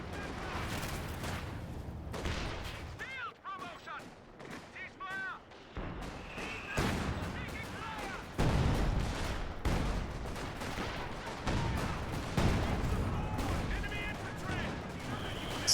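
Artillery barrage and gunfire in a World War II strategy game, with rapid booms and cracks of shells and small arms hitting a mortar half-track, dense and layered throughout, mixed under a commentator's voice.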